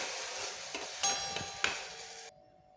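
Roasted semolina being stirred in a pan after milk is added, for a traditional Maharashtrian satori: short scraping strokes with a few clinks of the spoon over a faint sizzle, then the sound cuts off abruptly.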